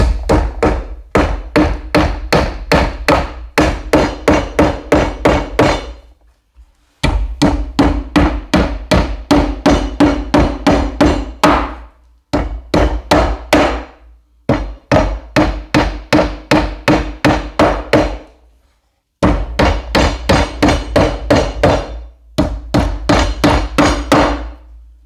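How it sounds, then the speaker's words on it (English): Wooden dowels are hammered down into a homemade wooden toolbox in loud, close, rapid bursts of sharp knocks, each burst of a dozen or so strikes separated by brief pauses. "And I'll use another dowel piece just to tap them, make sure they're down all the way."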